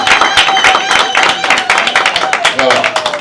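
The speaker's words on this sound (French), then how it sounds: "Monsieur Timi Papi Chibango, que j'appelle sous vos acclamations." An audience at an investiture ceremony claps in a brisk, dense burst of applause, loud and close, with a voice sounding over the clapping.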